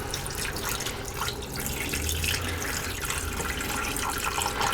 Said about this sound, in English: I'm gonna put at least a cup and a half of water in the bottom.